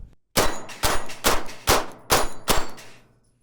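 Six pistol shots from a Shadow Systems handgun strike steel plate rack targets at an outdoor range, each a sharp report with a bright metallic ring, fired in a steady, controlled rhythm with no talking.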